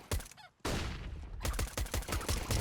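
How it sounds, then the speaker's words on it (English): Rapid gunshots on the Inferno map of Counter-Strike, a quick burst then a brief gap before a dense run of sharp shots, loud and close. "Shots by MBK"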